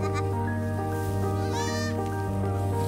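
Goats bleat on a small farm, one wavering cry rising in the middle of a few seconds of steady, close animal calls over a hum of background noise.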